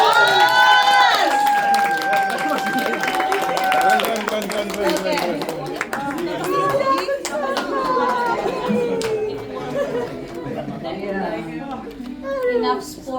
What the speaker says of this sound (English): let us give another round of applause for